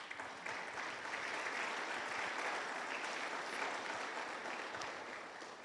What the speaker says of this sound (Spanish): Dele palmas a Él.